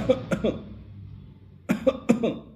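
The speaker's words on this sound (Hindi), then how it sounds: "एक खांसी होती है जिसमें ठसका चलता है," A few harsh, dry coughs come in two short clusters separated by a quiet pause, close and fairly loud.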